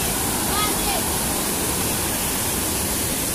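Water falls from above through four or five holes into a pool during the monsoon, making a constant, loud, rushing roar like a small waterfall, with no pauses.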